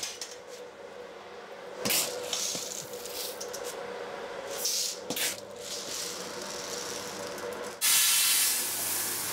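A coffee roasting machine runs while roasting coffee beans, giving a steady hissing whoosh with rattling bursts and a sudden louder rush of air near the end.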